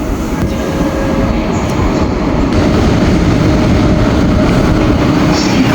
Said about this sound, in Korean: 탈 열차가 들어오고 있습니다.